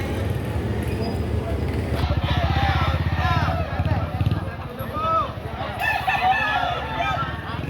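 Chickens and a rooster at a market poultry sale give out a loud crow and clucking amid people talking nearby, with an engine idling in the background.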